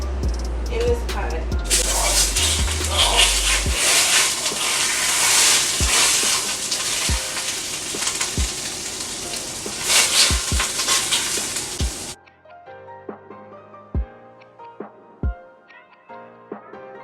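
Butter sizzling in a pot on the stove while homemade lasagna is being made, a steady loud frying hiss with occasional clicks and taps, after which only sparse knocks remain as the sizzle stops abruptly.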